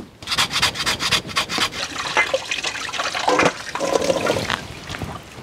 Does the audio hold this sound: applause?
no